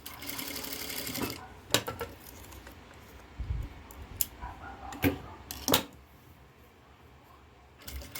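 A sewing machine stitches a bound hem edge in short bursts of fast mechanical whirring, separated by pauses, clicks and soft handling sounds, close and moderately loud with no talking.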